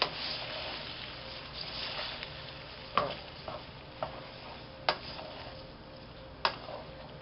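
Sausage sauce for pasta sizzles in a pan while a spoon stirs it, producing a steady frying hiss broken by several distinct scraping knocks against the pan, close and clear.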